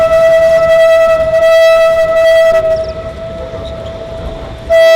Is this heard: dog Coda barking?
no